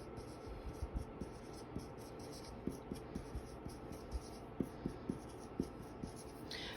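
A pen or pencil writes fractions by hand, a quiet, steady scratching broken by soft taps and strokes throughout.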